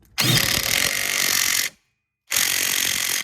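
Power tool tightening a rear sway bar link nut on a Chevy Impala: two loud, steady whirring bursts, about one and a half and one second long, separated by a short silence.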